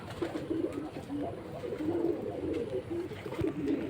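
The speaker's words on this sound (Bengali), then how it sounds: "এই যে কবুতরগুলো একটু রাখছিলাম, বৃষ্টিতে আবার একটু ভিজে গেছে।" Rain-dampened pigeons kept for sale coo repeatedly nearby, their low throaty calls rolling in short overlapping phrases over a constant background murmur.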